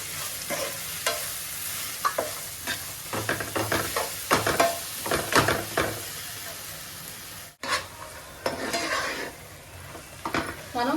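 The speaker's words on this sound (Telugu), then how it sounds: "ఇప్పుడు అదంతా కొంచెం ఒక రెండు నిమిషాలు అట్లా ఫ్రై చేద్దాము" Ingredients with salt fry in a pan for Ugadi pachadi, a steady sizzle punctuated by repeated scraping stirs and clinks of a utensil against the pan, close and fairly loud.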